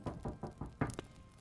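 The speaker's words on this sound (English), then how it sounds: "There is a knock at the door." Five rapid knocks on a door, evenly spaced, followed by a stray tap or two, moderately close with no talking.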